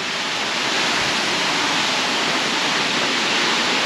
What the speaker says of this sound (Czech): vodopád.